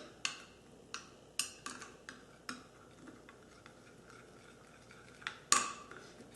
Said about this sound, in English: but just get it nice and mixed up with your spoon